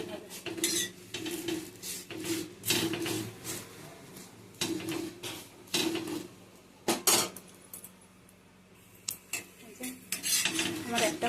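Metal spatula scraping and clattering in a pan while folding a potato-stuffed flatbread, with repeated close scrapes and clinks in irregular bursts and short pauses.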